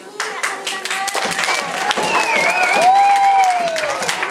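An audience at a talent show claps steadily after a young singer's song, a dense patter of hand claps running throughout while a raised voice and tonal sounds ride over the top.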